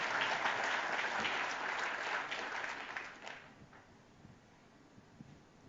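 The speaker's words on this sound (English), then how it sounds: "One more round of applause for that." Conference keynote audience at Meet Magento NYC 2022 applauding, a dense crowd clapping for about three seconds before fading into quiet room ambience with a few scattered claps.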